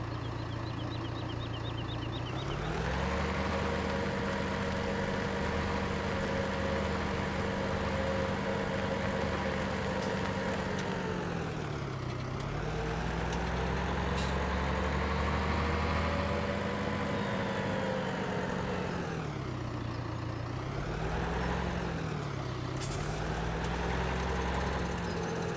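A tractor engine in the video game Farming Simulator 17 drones steadily at low pitch, its tone rising and falling as the throttle changes, continuous and close with no speech.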